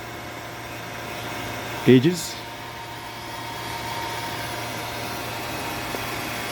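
A vacuum pump runs steadily during refrigerant recovery on an air-conditioning system, a constant mechanical hum throughout with a brief louder burst near two seconds, as someone talks over it.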